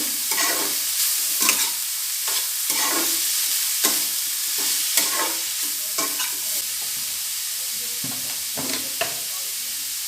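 Radish pieces lightly frying in a pan for a mulo chhechki with bori, a constant soft sizzle broken by about a dozen scraping stirs at uneven intervals, close and moderately loud with no talk.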